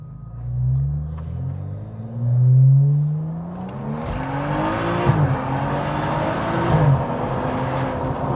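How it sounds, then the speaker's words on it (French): BMW M235i with 326 hp and 450 Nm pulling hard, the engine note rising through the revs and dropping briefly at gear changes, heard close from inside the car with a steady road rumble beneath and no talking. "Voilà, vous avez votre petite accélération."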